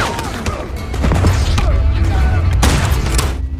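Gunfire from a cowboy film battle against Mexican mafia fighters, with villagers firing from trenches. The shots pile up into a dense, loud barrage of cracks over a heavy low rumble, with no pauses.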